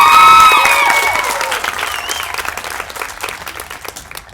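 An audience at a small-town ambassador coronation breaks into applause with whistles and cheers at the start, then the clapping carries on and gradually thins and fades.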